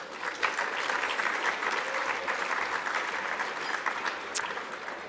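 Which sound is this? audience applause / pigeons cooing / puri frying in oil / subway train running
audience applause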